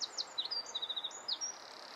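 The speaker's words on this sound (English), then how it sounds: "Can you hear the birds?" Birds chirp and tweet outdoors in a wooded setting at Alder Hills, with a series of quick, high, fairly faint calls over a soft steady background and no talking.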